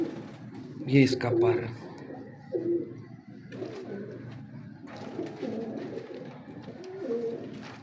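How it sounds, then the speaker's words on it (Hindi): A Kalu Baloch breed pigeon hen gives a few low coos close by, while someone talks over and between the calls. "माशाल्लाह बड़ी नफीस कबूतरी है।"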